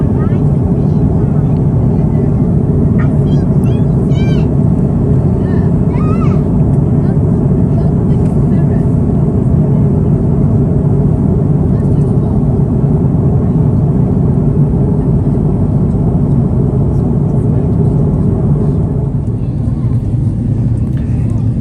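Steady, loud airplane cabin roar during descent toward Miami on a flight from London Heathrow, a constant low engine and air rumble with little change, with faint clicks and rustles nearby.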